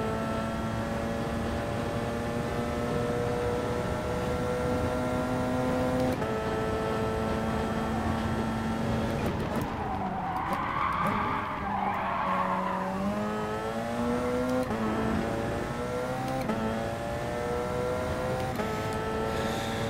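Race car lapping a track in the video game Gran Turismo Sport during a daily race, a steady high engine whine that shifts pitch through gears, with a burst of tyre skidding and squeal midway, loud and continuous, no talking.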